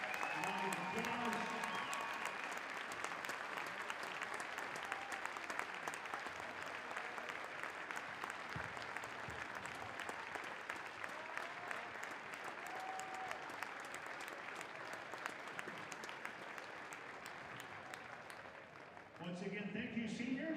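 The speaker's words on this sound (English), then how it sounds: "let's give these guys and gals a round of applause" Sustained audience applause for senior wrestlers at a varsity wrestling meet in a gym, a dense, even wash of clapping that holds for nearly twenty seconds before tapering off, with a voice coming in at the end.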